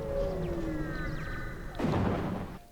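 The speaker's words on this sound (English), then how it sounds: "What you heard there was an ion storm." Ion storm in the space game FTL: a deep, muffled boom with a rumbling whoosh hits partway through, over steady game ambience and faint tonal electronic chirps, with no talking.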